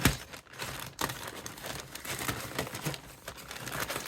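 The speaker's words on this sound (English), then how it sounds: "I'm going to use scissors because I don't like tearing things." Scissors cut open a package with soft snips and crinkling plastic and paper, close up and fairly quiet, in irregular bursts of rustling with no speech.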